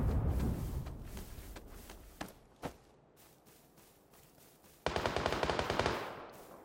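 Rapid automatic QBZ rifle fire in PUBG on the Sanhok map, a loud burst at the start, two sharp isolated shots in the middle, then another dense close burst near the end.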